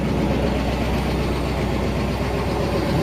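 A 1950 Oldsmobile station wagon idling on a dirt road, its engine giving a loud, close, steady low rumble with an even rough pulse and no voices over it.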